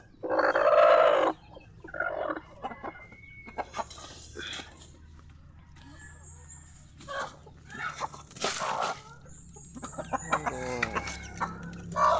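Chickens and ducks, including Black Astro chickens, cluck, squawk and crow at feeding time, with one loud burst early on and scattered calls from near and far at varying loudness.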